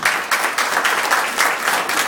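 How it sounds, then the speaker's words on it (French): Brief, loud applause from an audience honoring master chocolatiers at a pastry-makers' event in Hainaut, a thick, steady patter of many hands close by. "Bravo, on l'applaudit."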